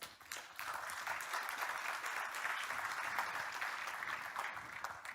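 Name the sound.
audience applause at a conference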